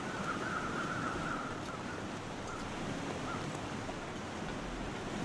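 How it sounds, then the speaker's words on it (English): Steady roar of a waterfall in a snowy wilderness in The Long Dark, a constant broadband wash of rushing water heard from some distance, with no voices over it. "There's a nice waterfall over there."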